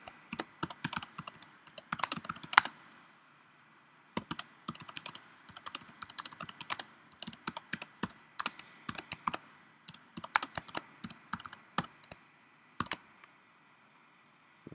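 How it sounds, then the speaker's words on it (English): Steady keyboard typing in bursts of quick clicks separated by short pauses, close and fairly quiet, continuing for the whole stretch with no talk. "I'm going to type this out if I can"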